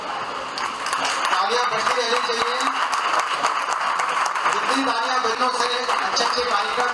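A meeting audience claps steadily in sustained applause for several seconds, a dense patter of many hands under a speaker's voice.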